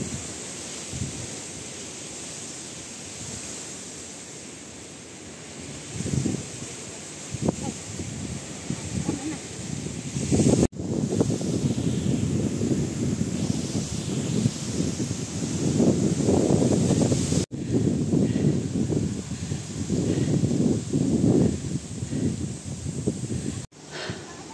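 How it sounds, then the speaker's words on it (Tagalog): Strong wind roars across a mountain hiking trail on High Junk Peak in Hong Kong, buffeting loudly in gusts that build and stay heavy, with a few faint voices and rustling beneath. "Ang lakas ng hangin, guys."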